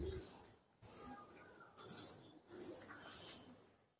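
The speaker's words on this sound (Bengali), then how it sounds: "তো কবুতরটা ছাড়লে কি রকমের স্ট্যান্ডিং থাকে সেটা একটু আপনাদেরকে ছেড়ে দেখাই" An adult female Sylheti Kamagar pigeon is released and flaps its wings in several loud, rustling bursts close by, separated by brief pauses.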